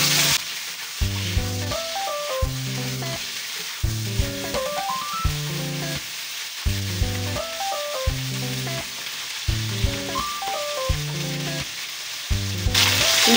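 Chicken feet fry in a pan with a steady, close sizzle that runs throughout, while a melodic backing track with a repeating beat plays over it and no one speaks.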